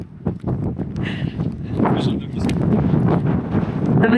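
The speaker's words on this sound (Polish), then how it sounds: "wiatr" Gusty wind on a dune campsite buffeting the microphone in a low, continuous rumble, with a few scattered thumps and movement noises throughout.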